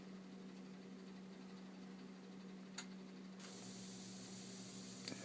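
Faint hissing spray from a two-nozzle misting system wets the plants in a veiled chameleon enclosure, a quiet steady mist over a low electrical hum, brightening toward the end with a couple of small clicks.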